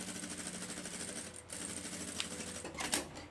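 Sewing machine stitching a backpack seam, with a steady continuous mechanical whir and rapid needle chatter close by, briefly pausing and resuming with a couple of clicks near the end.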